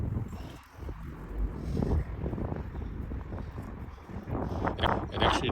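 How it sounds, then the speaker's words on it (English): Gusty outdoor wind buffets the microphone around a telescopic flag pole carrying a Starlink Gen 3 dish, making a steady, loud low rumble with swelling gusts and no voices. "Today it's pretty windy too"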